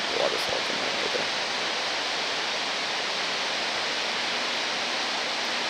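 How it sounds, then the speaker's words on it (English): A waterfall on the Iceline Trail in Yoho National Park roars as a steady, broad wash of rushing water, loud and unbroken, with no talk over it. "Waterfall coming right there."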